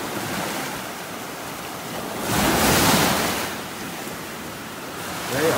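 Surf rolls in and out along a shell beach ridge in North Naples, Florida: a continuous hiss and rumble of breaking waves with one louder surge midway and another building at the end.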